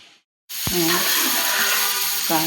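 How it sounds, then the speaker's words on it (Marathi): Chopped onion sizzles in hot oil in a home kitchen as part of a dry jackfruit vegetable dish, a steady close frying hiss that starts abruptly after a brief silence, with a voice heard faintly. "तेल टाकलं आणि कांदा परतून घेतो."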